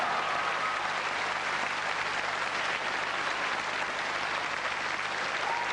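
An audience applauds the crowning of Miss France and Miss Tahiti at a beauty pageant, with steady, sustained clapping that holds at an even level throughout.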